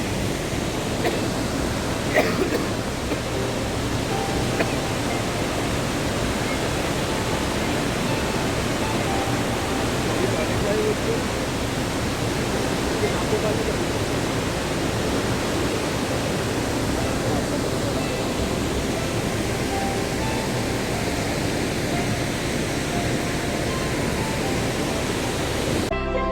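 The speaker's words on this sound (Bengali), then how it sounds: "এইখান থেকে জলটা পড়ে ওইখানে গিয়ে ওইখানের সাথে মিশেছে" Steady broadband rush of a waterfall pouring into a river beside the mountain road to Tawang, constant and fairly close, with a brief spoken phrase near the start.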